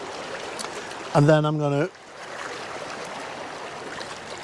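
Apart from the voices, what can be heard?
flowing water at a sunset landscape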